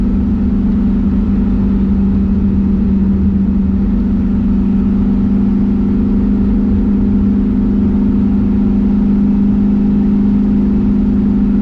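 An LSX V8-swapped Infiniti G35 rumbles steadily from inside the cabin while driving, a deep continuous droning engine note with a constant low hum and no voices, loud throughout.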